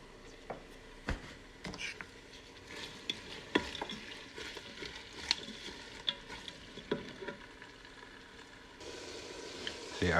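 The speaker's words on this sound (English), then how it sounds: "as you can see, the onions are frying nicely" Onions frying in a Ninja cooker for chicken biryani, a soft steady sizzle broken by repeated scraping stirs and light knocks, close and without talk.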